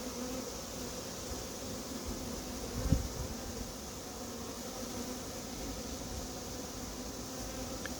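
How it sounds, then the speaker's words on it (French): Honey bees from a captured swarm, settling into a hive with comb, buzz in a dense, steady drone close by, with a single soft knock near the middle. "on voit qu'il y a déjà des abeilles qui ont repéré les rayons et qui adoptent la ruche"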